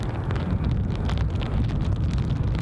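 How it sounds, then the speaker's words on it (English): Wind buffets the microphone outdoors at an airport during plane spotting, a steady loud low rumble with gusty flutter throughout and no voices. "found the wind there, folks"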